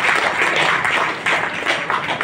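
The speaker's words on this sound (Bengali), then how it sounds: "জোরে একটা হাততালি" An audience at a talk bursts into loud applause, a dense, continuous wash of many hands clapping together that swells slightly in waves.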